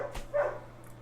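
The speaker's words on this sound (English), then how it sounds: "the neighbor dog is like barking like a dog" A neighbour's dog gives a single short, faint bark from some distance, standing alone over a quiet background hum.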